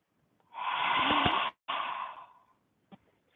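A long, breathy exhale during a yoga breathing exercise, loud and close, broken by a brief pause, then trailing off into a short faint puff at the end.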